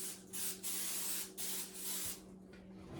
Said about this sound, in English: it's just quicker to spray it with Pam so they won't stick at the bottom